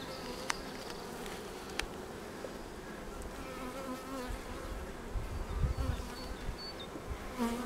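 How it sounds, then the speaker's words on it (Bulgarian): Honey bees buzz steadily in an opened beehive during an inspection, a dense continuous hum close by with a few brief louder passes, and no talking. "Те пчелите не са много."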